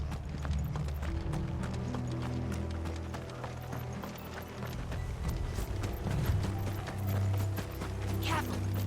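Horses gallop with rapid clip-clop hoofbeats in Final Fantasy XVI, a steady dense drumming over low rumbling game music and ambience, with a brief whinny near the end; no talking.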